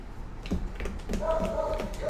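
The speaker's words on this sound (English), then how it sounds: "Sorry about the dog out there" A dog outside whimpers and whines in high, wavering cries, moderately close, with faint tapping and background noise in a home kitchen.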